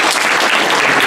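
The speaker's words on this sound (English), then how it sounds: "Clap for yourselves, please, seriously." Audience applause at a state Libertarian party convention in 2018, a loud, dense wash of many hands clapping continuously and close, with no speech over it.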